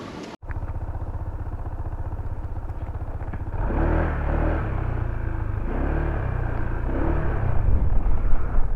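A motorcycle riding along the road through Candaba, Pampanga toward Arayat: a steady close engine drone with rushing wind, growing rougher and louder midway as the ride rumbles on, with no talk.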